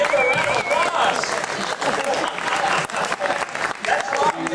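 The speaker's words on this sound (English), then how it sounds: "Ladies and gentlemen, give her a round of applause." An audience at a horror makeup show applauds a volunteer with loud, dense clapping that runs throughout, joined by cheering voices and crowd noise.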